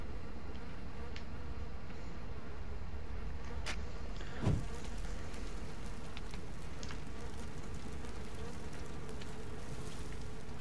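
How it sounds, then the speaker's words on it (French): In the horror video game The Evil Within, flies buzz continuously over a dense, steady background hum, with a brief louder swipe midway. "il y a de la mouche là-dedans, on les entend bien"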